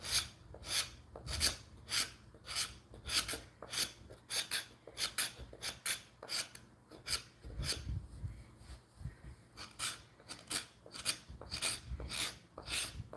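A scorp carves shavings from wood in steady, rhythmic rasping strokes, each a short, close scrape with brief pauses between, quiet with no talk.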